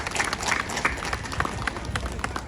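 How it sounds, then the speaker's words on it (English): An audience at a Hmong American Day event in Fresno, California applauds local officials, with dense steady clapping throughout. "Can we give them all a round of applause?"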